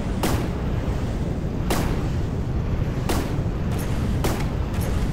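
Missiles launching and detonating in the naval combat game From the Depths, four heavy booming bursts spaced over a few seconds against a constant loud rumbling engine-like background.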